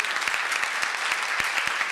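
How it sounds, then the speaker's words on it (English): A conference audience gives panelists a warm round of applause, a continuous, moderately loud patter of many hands clapping without a break. "Let's give our panelists a warm round of applause."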